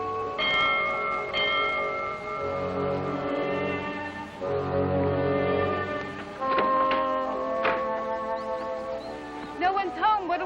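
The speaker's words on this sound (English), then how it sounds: "Ring the bell" A bell rung by pulling a bell rope, struck several times with ringing tones that sustain and overlap, one clear strike after another; a low hum and voices mix in near the end.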